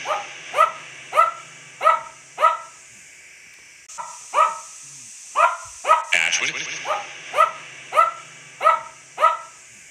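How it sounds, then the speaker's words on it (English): A dog barks in a steady rhythmic series of sharp, fairly close barks, pausing briefly midway before resuming. "Is the dog barking at you?"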